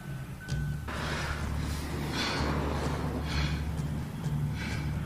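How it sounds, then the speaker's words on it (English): Heavy, rasping breaths repeat in slow cycles, close and ragged, over a steady low hum with no talking. "you can hear that breathing."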